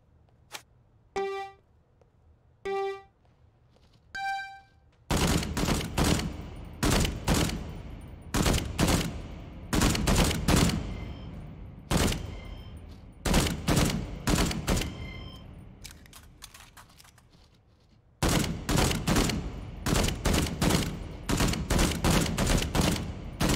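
AK rifle fire in the Contagion VR shooter, with a few clicks and tones at first, then long bursts of rapid automatic shots that stop briefly and start again, loud and near, with no talking.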